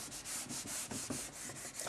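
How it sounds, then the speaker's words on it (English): A board being rubbed clean, a short stretch of steady back-and-forth scrubbing strokes, close and fairly quiet, with no talking. "Rub things off so we've got more room."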